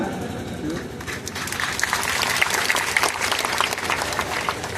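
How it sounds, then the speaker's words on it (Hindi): An audience breaks into applause, a rising burst of clapping that swells and holds, mixed with some crowd noise and muffled voices in the room. "इस पर तो आपको धुआंधार ताली बजाना चाहिए ना"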